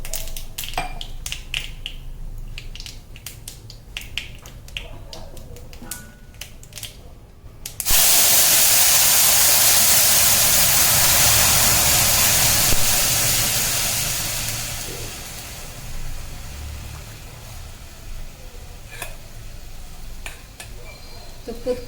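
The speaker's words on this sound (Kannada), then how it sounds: "ತುಪ್ಪದ ಪಾತ್ರೆ ಇತ್ತು, ತುಪ್ಪ ಕಾಸಿತ್ತು, ಅದರಲ್ಲೇ ನೀರು ಕುದಿಸ್ಕೊಂಡ್ಬಿಟ್ಟು ಸೋಸ್ಕೊಳ್ತಾ ಇದ್ದೀನಿ." Water poured into a hot pot used for heating ghee erupts into a loud, steady hiss that fades gradually after several seconds, following softer clinking and kitchen sounds.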